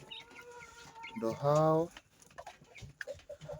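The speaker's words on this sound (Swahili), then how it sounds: "I'm giving them food, my chicks." Young chicks cheep and a hen clucks while being fed grain in a small backyard coop, with one loud drawn-out call standing out over scattered short peeps and a person speaking briefly.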